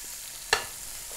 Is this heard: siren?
no